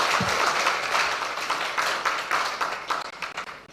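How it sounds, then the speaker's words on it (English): Clapping from an audience at a Ghana Premier League partnership launch event, a loud burst of applause that holds steady and then gradually thins and fades toward the end. "I didn't see my clubs clapping."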